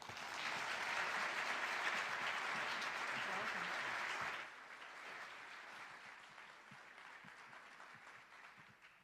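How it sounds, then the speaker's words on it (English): A university lecture audience applauds warmly for a test pilot graduate at an astronaut event. The clapping is dense and loud for about four seconds, then drops suddenly to a thinner, fading patter. "let's have a big round of applause for Josh"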